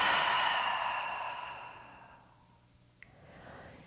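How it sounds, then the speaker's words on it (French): One long, deep exhale through an open mouth during a breathing exercise, starting strong and fading away, followed by a near-silent pause, a tiny click and a faint rustle. "Ouvre la bouche, expire."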